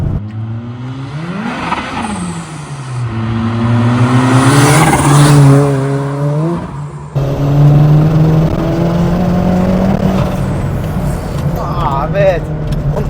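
A 560bhp Ford Sierra Cosworth accelerates hard through the gears with wheelspin, its engine note climbing and dropping across shifts, loud and close, with occasional speech from the occupants underneath.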